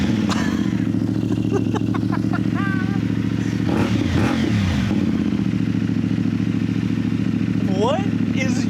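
A CFMOTO Ibex 450 motorcycle with a Yoshimura slip-on exhaust idles loudly after a cold start, a steady low throbbing broken by a brief blip of revs, while someone talks over it.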